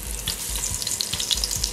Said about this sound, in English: lightly flour the meat and set it in the pan. Well, see in the pan how it's bubbling?